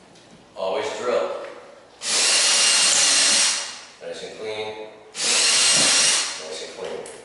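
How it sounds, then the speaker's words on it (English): Power drill used during a mural installation, running in two long loud bursts of roughly one and a half seconds each, with brief speech in between. "Switch back to drill bits."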